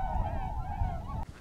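Geese on a farm honk in a steady, continuous run of nasal calls close to the microphone, with light wind noise underneath, cutting off abruptly near the end.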